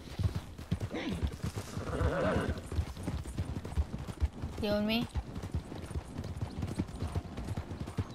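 Horse hooves clip-clop steadily in Red Dead Redemption 2, with a horse's whinny rising midway, while a player talks over the game sounds.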